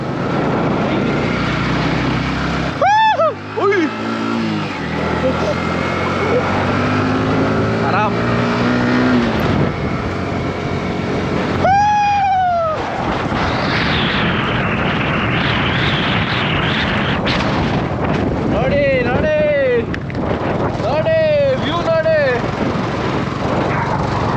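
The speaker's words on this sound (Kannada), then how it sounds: "ಬೈಕ್ ರೈಡು ನಾವು ಆರ್ ಒನ್ ಫೈಯಲ್ಲೇ ಇಷ್ಟೊಂದು ಎಂಜಾಯ್ ಮಾಡ್ತಾ ಇದ್ದೀವಿ" An R15 motorcycle engine drones continuously and revs up and down while on the move, with a few sharp whining surges and muffled voices underneath.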